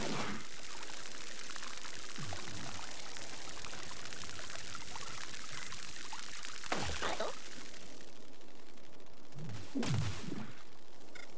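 Melons watered in the video game Everkin, a steady poured-water stream running throughout with a couple of sharper splashy bursts near the end, fairly loud and even.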